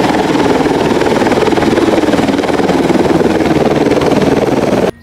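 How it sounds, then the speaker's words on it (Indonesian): Police helicopter with a loud, steady rotor thrum and engine whine, close and continuous, cutting off abruptly just before the end. "Wow, ada helikopter polisi juga."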